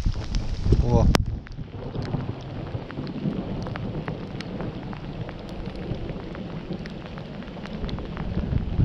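Rain falls steadily on a lake while fishing from a boat; a long, low rumble of thunder rolls on in the background, with a sharper crack near the start.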